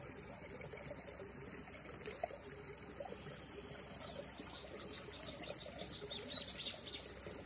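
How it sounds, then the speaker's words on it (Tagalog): A bird chirps in a quick series of faint, high twitters late in the scene, outdoors in the morning air against a steady hiss and soft trickling background. "Ayan yung ibon."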